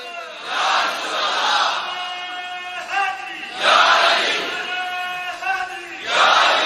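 A large crowd chants religious slogans in unison at a Yaum al-Badr gathering, rising in loud waves with brief dips between, a single voice briefly leading.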